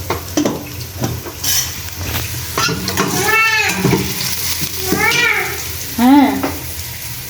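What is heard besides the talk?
fish frying in a pan, coated with turmeric and chili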